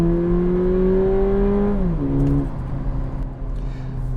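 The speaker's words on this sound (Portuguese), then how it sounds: "Deu para ouvir o ronco do carro, né?" Volkswagen Polo GTS engine switched to Sport mode, holding a strong roar, then easing off as revs drop and settle to a lower hum after about two seconds.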